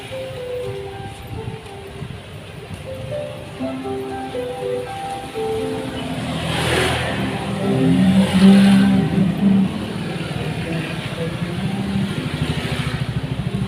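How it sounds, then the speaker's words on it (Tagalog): Many vehicles pass on a street in Palasan, Valenzuela City, with engines revving and droning at close range. The sound builds to a louder pass near the middle, then settles into a steady hum of traffic. "Marami pong sasakyan."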